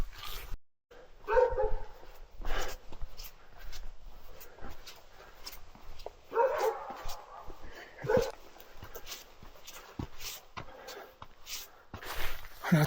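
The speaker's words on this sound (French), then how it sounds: "Il y a des chiens partout, ça fait flipper." Dogs bark intermittently at night on a mountain trail on La Malinche in Mexico, scattered barks and yips near and farther off, mixed with footsteps and faint talk.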